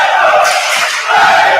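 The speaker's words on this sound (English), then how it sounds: "And already that's the crowd getting fired up, Tim." Spectators yell and cheer at a high school volleyball match, General McLane at Warren, a loud sustained roar that dips briefly near the middle and then surges again.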